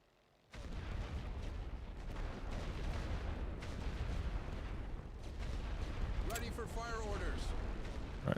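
Artillery barrage in The Great War: Western Front, starting abruptly after a quiet moment into a sustained rumbling roar of distant booms and blasts, with a brief whistling, warbling sound near the end.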